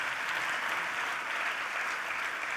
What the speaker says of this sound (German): Auch ein Applaus für Daniel Hasbecker.